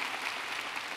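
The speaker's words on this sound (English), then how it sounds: "That deserves an applause" A short burst of faint, distant applause from a college convocation crowd, an even wash of clapping from many hands with no voices.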